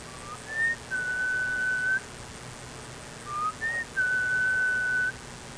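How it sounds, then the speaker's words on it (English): A person whistles twice outdoors in New Hampshire to call animals to seed put out at feeding time, each call a short rising note followed by a long steady high tone, moderately loud over quiet background hiss. "That's my whistle there."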